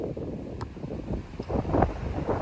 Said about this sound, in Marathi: वारा इकडे हा, वारा या साईडला आहे.